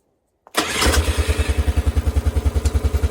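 A four-wheeler ATV that had been giving trouble cranks and catches, then settles into a loud, close, rhythmic chugging idle.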